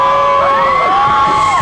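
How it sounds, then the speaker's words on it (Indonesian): A crowd at a church futsal competition in Central Java cheers loudly, with shrill whoops and shouting voices rising and falling for the whole stretch. "Mojosongo, tepuk tangan Mojosongo."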